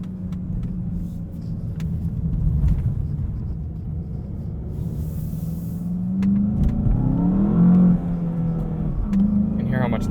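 A 2020 Volkswagen Jetta GLI Autobahn with a six-speed manual accelerates hard from a stop in sport mode, its engine note climbing steadily in pitch and swelling louder toward a peak before settling, all heard from inside the cabin.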